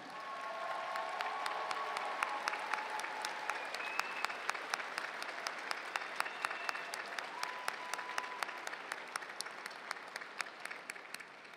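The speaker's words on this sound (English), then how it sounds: "give them a round of applause for a job well done" Graduates at a community college commencement give a sustained round of applause for faculty and staff, steady crowd clapping at moderate distance that holds evenly throughout with sharp individual claps standing out.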